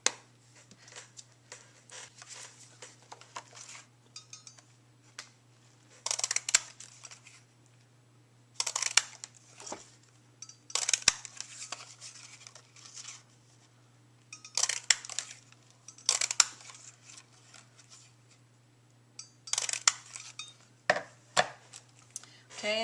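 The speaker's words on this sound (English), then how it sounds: "One 1 1/4 inch punch, we're going to punch those out." A 1 1/4 inch handheld paper punch cutting circles from cardstock: several sharp, crunching clacks in separate clusters, close and fairly loud, with quiet gaps and a faint steady hum between them.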